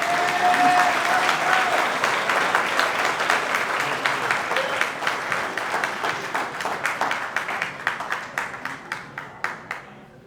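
A hall full of people applauds a wrestling hall of fame lifetime service award recipient, dense sustained clapping that gradually thins into fewer, distinct claps as it fades out near the end.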